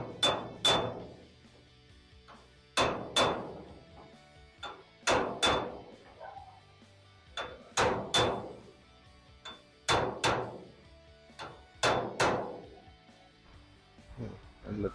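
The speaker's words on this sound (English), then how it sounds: "I just want to give it a couple of more whacks here." A hammer whacks a classic car's steel roof skin panel during a roof skin swap, landing in clear pairs of sharp metallic strikes repeated about every two seconds, close and loud with ringing decay.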